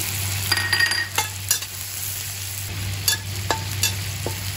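Ginger and garlic sizzle in a pan for barracuda miso, with a steady frying hiss broken by several sharp scrapes and taps of a spatula against the pan.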